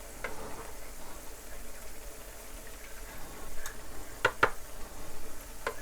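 Garlic pieces frying in oil in a pan, a soft steady sizzle with a few sharp clicks and scrapes as they are stirred, fairly quiet and close, with no talking.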